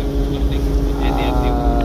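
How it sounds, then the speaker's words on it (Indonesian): Ship MV LBN 6 berthing at a jetty at night with two assist tugs, a steady low engine rumble and water noise running throughout, with a faint higher tone rising near the end. "kita akan lihat proses sandar motor Vessel LB6 lagi lur di dermaga pada malam hari"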